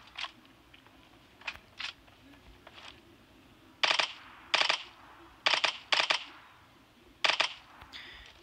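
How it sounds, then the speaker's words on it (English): Gunfire from a suppressed weapon in PUBG Mobile rings out as short clipped bursts, a few faint single shots followed by louder paired and triple cracks spaced irregularly over a quiet background. "I'm gonna waste my ammo on this gun real quick"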